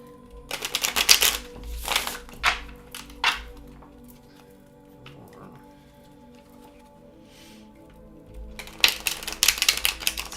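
Tarot cards are shuffled in quick riffling bursts, crisp and close, separated by a quiet pause and softer card handling before a final burst of shuffling.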